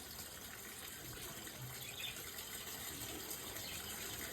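Water runs steadily from a tap, filling a container, in a continuous even gushing stream heard alone at moderate, slightly distant level.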